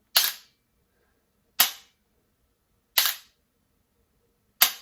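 AR-15 trigger fitted with a Mantis Blackbeard auto-reset system, four sharp isolated mechanical clicks of the hammer resetting, evenly spaced about every second and a half, close and crisp with silence between.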